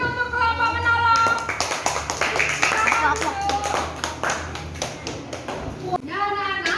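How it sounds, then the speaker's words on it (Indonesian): Children in a second-grade classroom clap for a classmate group, a quick burst of dense, close hand claps with a voice and an adult voice speaking at the start and end. "beri tepuk tangan untuk kelompok menolong"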